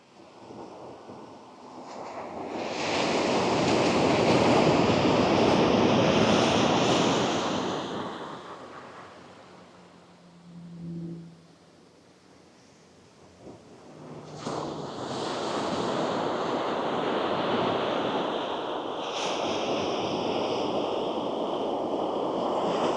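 Wind and broad surf wash of sea waves during a DJI Neo drone flight over the sea along a coast, swelling loud, dipping quieter mid-way, then building again, with no talk.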